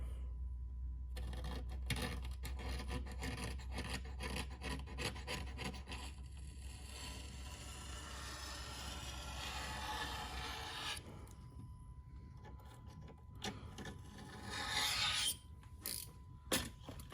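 Wood being shaved down by hand to fit across a span with a couple of high spots, heard as repeated rasping, rubbing strokes close by, steady for long stretches with a few sharper scrapes near the end.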